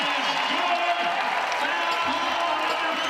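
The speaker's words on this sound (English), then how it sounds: "And an and one behind the arc. Gets this crowd on their feet." Basketball crowd at a women's college game, Arizona State vs. Utah, cheering and applauding after a three-point and-one, with a steady roar of clapping and shouts throughout and a few whoops rising above it.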